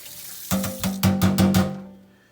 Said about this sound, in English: After that, we rinse off, clean up as we go.